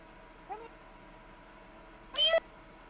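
A cat meows twice nearby: a short soft call, then a louder, higher one a moment later, over a quiet indoor background.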